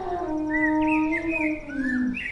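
An elephant in a Hindi cartoon story raises its trunk and trumpets loudly, a sustained wavering call with a rising high edge that holds for a couple of seconds alone.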